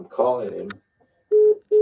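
A phone call being placed from a mobile phone, with a voice speaking briefly, then two steady electronic ringback tones separated by short silences.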